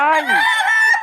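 A rooster crows at a poultry market in Bocaue, one long rising-then-falling call lasting about a second, loud and close with a slightly ragged, strained tone.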